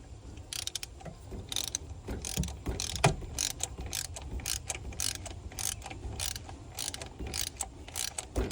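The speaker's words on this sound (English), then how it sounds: "27 foot-pounds on the old torque wrench." Torque wrench tightening a spark plug on a Ford 5.4 engine, a run of close, rhythmic ratcheting clicks repeating steadily throughout.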